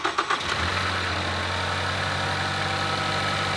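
A car engine cranks with a few quick bursts, catches, and settles into a steady, even idle that hums on unchanged.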